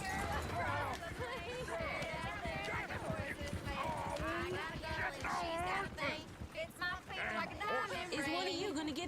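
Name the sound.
horse hooves and neighing in the video game Red Dead Redemption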